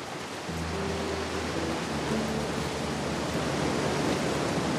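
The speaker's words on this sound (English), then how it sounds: "Oh, we got a waterfall here." Steady broadband rush of a waterfall in the video game The Last of Us Part I, a continuous even roar that fills the whole stretch, with brief soft tonal game sounds near the start.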